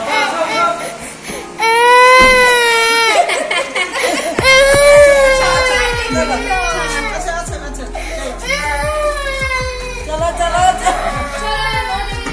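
A small child whines and cries on a Sunday family outing, with drawn-out wavering wails and sobbing bursts that rise and fall over several seconds, close by, with other voices mixed in.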